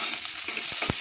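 Garlic crackles and sizzles in hot oil in a wok, a brief close burst of frying with a couple of soft stirring knocks and no talk.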